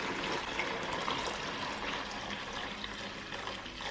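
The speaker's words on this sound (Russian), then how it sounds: "Горячую воду переливаю в таз." Hot water pours continuously into a basin, a steady splashing rush at moderate volume lasting the whole stretch with no one talking.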